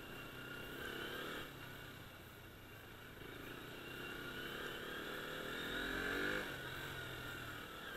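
A KTM Duke 125 motorcycle engine drones steadily nearby, its pitch rising and falling slightly as it rides, with no talking.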